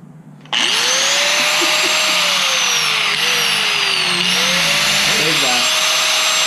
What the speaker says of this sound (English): let's jump to the front, finish cutting that. I'll grab the grinder